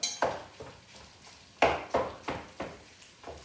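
A wooden spoon scrapes and knocks against a pan while breaking up firm sausage meat for spaghetti bolognese in a home kitchen, in a run of sharp, close clacks and scrapes at an irregular rhythm with no talk.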